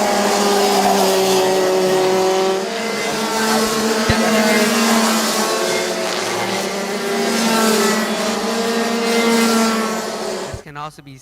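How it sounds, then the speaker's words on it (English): Several racing kart engines, including a 2025 Burrell kart with bumper configuration, whine and drone loudly during a race in Thailand, their pitches rising and falling as they pass, with a commentator talking over them. "the 2025 bumper configuration of the Burrell cart, Austin Gale driving"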